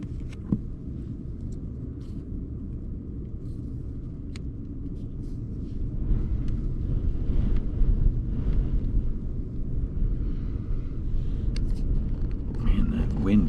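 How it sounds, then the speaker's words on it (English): Strong wind buffets a parked truck camper, producing a deep, continuous rumble with gusty surges and low rattling shakes of the vehicle body, heard from inside. "Man, that wind is really shaking this truck."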